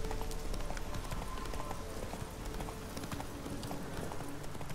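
Horse galloping in The Witcher 3, a rapid steady clip-clop of hooves at moderate distance, continuous throughout with some ambient game sound beneath.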